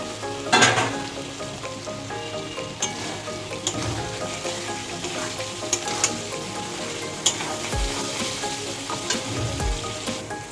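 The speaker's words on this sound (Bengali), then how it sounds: "এবার আলু ভাজাটা দিয়ে দেবো" Fried potatoes added to cooked masala in a pan during preparation of a potato-cauliflower curry, sizzling steadily with bright crackling, a few louder spatters and occasional thuds and scrapes as they are stirred.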